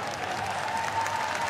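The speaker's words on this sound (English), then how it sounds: "Solid round of applause, even from Australia." Netball crowd applauding at the Australia v New Zealand Netball World Cup 2019 match: a dense, steady wash of clapping from a large arena audience that holds at an even level throughout.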